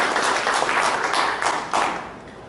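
An audience at a sports awards event in a golf club applauds a sponsor, a short dense wash of clapping that holds steady and then fades away over about two seconds.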